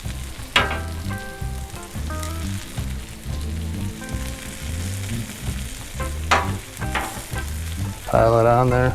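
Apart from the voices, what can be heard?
pork sizzling on a griddle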